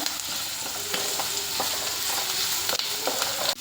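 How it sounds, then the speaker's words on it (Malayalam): Sliced onions sizzle steadily in a pan for a vegetable curry, a close, continuous frying hiss broken by occasional scrapes and taps of a spoon stirring them. "ഒന്ന് ഇളക്കി കൊടുക്കാം നമുക്ക്. സവാള ഒന്ന് വാടി വരട്ടെ."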